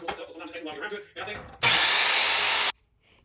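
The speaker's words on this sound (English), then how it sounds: "I'm going to cut that down to 1 inch to match the outside and use that as trim" A power saw rips 1x4 lumber down to one-inch strips for workbench trim: a loud, steady cutting burst of about a second, following a stretch of quieter handling and talk.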